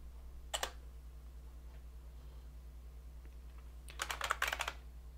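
Typing on a computer keyboard attached to a BBC Master running 6502 CP/M: a brief pair of keystrokes, a pause, then a quick cluster of clicky presses near the end, quiet and close over a steady low hum.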